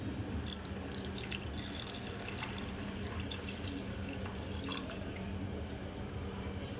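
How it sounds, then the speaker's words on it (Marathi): A stream of water splashes into a pulao cooking pot nearby, a continuous trickling pour with brief spattery bursts. "आता ह्याच्यामध्ये मी पाणी ॲड करत आहे, 1 ग्लास पाणी."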